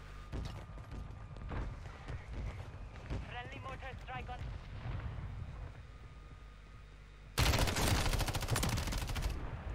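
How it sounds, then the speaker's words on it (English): Game explosions from a mortar strike in Call of Duty Warzone: a dense, loud, crackling barrage arrives late and continues to the end, after a stretch of mixed game noise and whistling tones. "Friendly mortar strike on."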